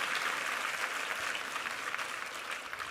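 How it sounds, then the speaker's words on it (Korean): A church congregation applauds a chamber ensemble at a Sunday worship service, a dense, steady wash of clapping that holds evenly throughout, with no voices over it. "우리 챔버에게 힘찬 한번 격려의 박수 한번 부탁합니다"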